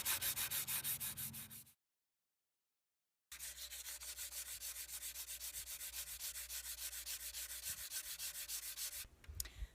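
Sandpaper rubs rhythmically back and forth across a painted wood wall shelf, wearing through the paint to the grain for a distressed finish; steady close strokes stop for a moment of silence, then resume.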